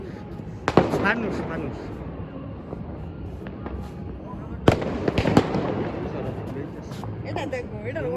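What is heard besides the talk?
New Year fireworks bursting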